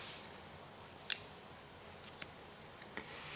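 Scissors snip through crochet yarn in a quiet room, one sharp close click followed by two fainter snips spaced about a second apart.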